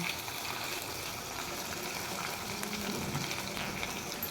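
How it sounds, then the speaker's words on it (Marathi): Moong dal with a pinch of asafoetida frying in hot oil as a tempering for chutney, a steady soft crackling sizzle that holds at one even level throughout, close by, with no voices. "मुगाची डाळ चांगली फ्राय होऊन द्यायची आहे."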